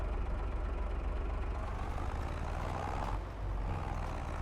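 A tractor engine in Farming Simulator 25 labours loudly and steadily as it climbs a steep hill, with a dense low rumble that holds throughout and a brief hiss-like swell near the end.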